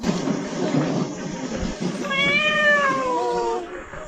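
A small, sickly kitten gives a drawn-out, wavering meow lasting about a second and a half, close and fairly loud over a busy background of rumbling noise.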